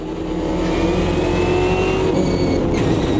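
A DTM race car in the Automobilista 2 racing game drifts with a loud, steady engine roar that holds high revs, with a faint tire squeal near the end.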